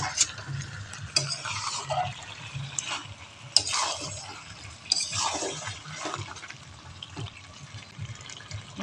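Meat and potatoes being stirred through spices in a pan: repeated scraping and shuffling strokes over a soft wet sizzle, close and steady, with no voices.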